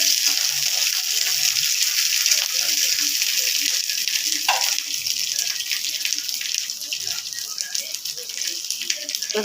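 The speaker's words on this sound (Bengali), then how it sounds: "তেল গরম হয়ে গেছে, এবার এই রসুন আর কাঁচা লঙ্কাটা দিয়ে দেবো।" Garlic and green chillies sizzle in hot oil in a home kitchen pan, a steady bright hiss that holds throughout at close range without let-up.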